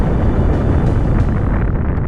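A deep, rumbling roar of a star exploding as a supernova, a dense, steady blast of low noise held for about two seconds with no break.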